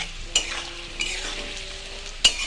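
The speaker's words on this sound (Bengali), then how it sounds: "পেঁয়াজটাকে আমি খানিকটা বেটেও রেখেছিলাম সেটা আমি এর মধ্যে এখন দিয়ে দিলাম" Onion paste goes into onions frying in a pan and is stirred, producing a constant close sizzle broken by a few sharp spatula taps and scrapes against the pan.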